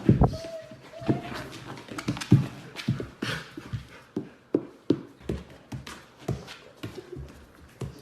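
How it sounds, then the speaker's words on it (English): Dogs reacting to their owner, with panting, sniffing, soft whimpers and snuffles, plus scattered thumps and paw movement close by. "This person likes to pretend that she's sad to get cute reactions from her dogs."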